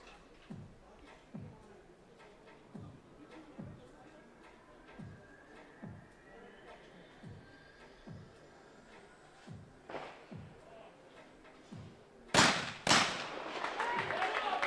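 Shotgun shots at a men's skeet shooting final, a run of faint distant regular pops roughly every second, then two loud close blasts near the end, with crowd murmur and commentary voices underneath.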